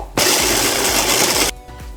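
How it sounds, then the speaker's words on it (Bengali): Bread is ground into crumbs in a grinder, the motor whirring loudly and steadily for just over a second before cutting off abruptly, with a quieter hum continuing afterward. "আমি এখন এটাকে গ্রেট করে নেব"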